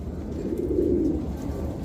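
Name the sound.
pigeons cooing, yellow Fleja breed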